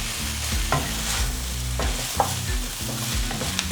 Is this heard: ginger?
yes